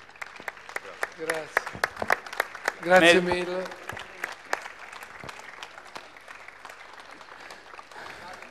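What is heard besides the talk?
audience applause at an award presentation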